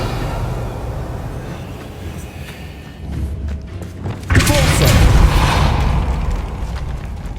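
A magic reveal spell cast in the video game Hogwarts Legacy, a sudden loud whooshing burst with a low boom that swells and lingers for a few seconds after a quieter stretch of game ambience.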